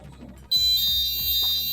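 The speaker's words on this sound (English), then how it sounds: "The beacons or sounders now sound within the flat." A fire alarm sounder in a flat starts abruptly, emitting a loud, steady high-pitched electronic tone that continues without a break.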